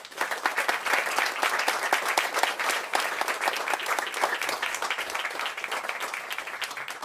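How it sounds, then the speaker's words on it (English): At a ceremony celebrating the restoration and cleanup of the Ashtabula River, a crowd gives the honorees steady applause, many hands clapping in a continuous patter throughout. "So I think they deserve applause and appreciation from us."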